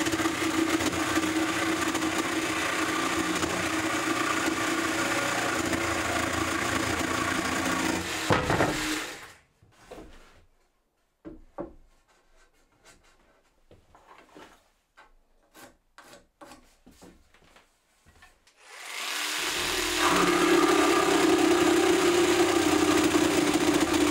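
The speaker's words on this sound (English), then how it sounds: "I'm going to use the jigsaw to get it cut" A jigsaw cuts through wood with a steady, buzzing rasp. It stops for a stretch of scattered clicks and handling knocks, then the cutting starts again at full loudness.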